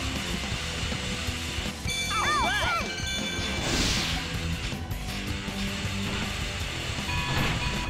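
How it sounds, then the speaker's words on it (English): An armored train in the Sonic Heroes video game rumbles and clatters under a dense music and effects mix, with a crash and rising chirpy effect sounds partway through. "an armored train! You want a race?"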